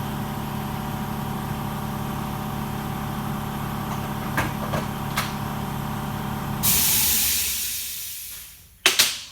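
An air compressor drones steadily in a workshop where diesel fuel pipes are being refitted, then a loud hiss of released air surges and fades, ending with a couple of sharp knocks.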